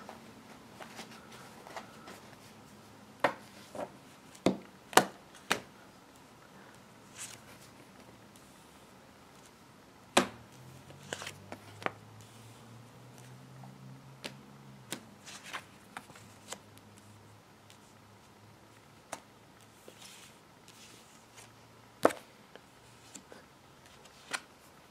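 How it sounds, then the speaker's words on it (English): A deck of tarot cards is shuffled by hand, giving soft, quiet riffles and scattered sharp snaps and taps at irregular intervals over a hushed room, with no talking. "shuffling the cards"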